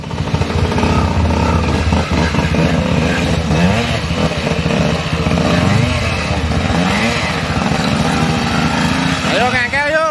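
A trail motorcycle out riding in the rain drones loud and close throughout, its engine revving in rising surges while people talk over it.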